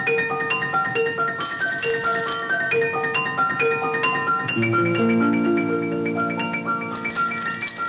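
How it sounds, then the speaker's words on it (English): Bright bicycle bell tones repeat in quick, overlapping dings, with tinkling layered chimes and lower sustained ringing partway through. "Don't forget to ring your bell round corners."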